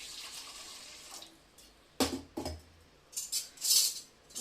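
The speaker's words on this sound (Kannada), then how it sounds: "ಇಡ್ಲಿ ಕುಕ್ಕರ್ ಇದಕ್ಕೆ ಸ್ವಲ್ಪ ನೀರು ಹಾಕ್ತೀನಿ" Water poured into an idli cooker in a home kitchen, arriving in a few short splashing bursts with quieter gaps, close and fairly clear, no talking.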